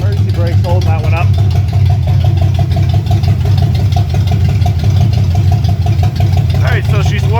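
A forgotten 1965 Ford Mustang fastback, just started for the first time in 44 years, idles loudly and steadily close up, with a brief voice or two near the start and end.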